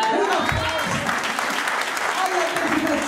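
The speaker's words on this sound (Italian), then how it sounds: "perciò tocca a tutti di battere le mani a tutti quanti" Audience clapping at a women's day celebration at a social club in Trabia, a steady dense wash of hands that holds loud through the whole stretch, with voices faintly mixed in.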